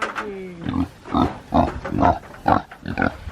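Pigs grunt in a series of short, rhythmic snorts close by, about six or seven in quick succession with little else around.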